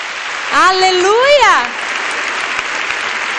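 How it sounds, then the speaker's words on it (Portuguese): A church congregation applauds the word of the Lord, steady clapping throughout, with a voice loudly shouting a sung exclamation over it early on. "Você pode aplaudir a palavra do Senhor?"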